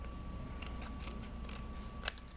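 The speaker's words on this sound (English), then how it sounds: "you'll run the scissors right along and snip off the extra" Scissors snipping through card stock at a kitchen table, a quick run of small close crisp cuts ending in one sharper snip, quiet under a faint steady hum.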